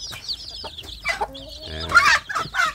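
Young native village chicks, about a week after hatching, give high peeping cheeps in quick bursts, with fowl clucks mixed in, close and fairly clear.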